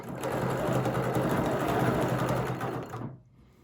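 A sewing machine stitches a quilt guided by quilting rulers, a steady close mechanical whir with rapid needle pulsing for about three seconds before stopping abruptly, no talking.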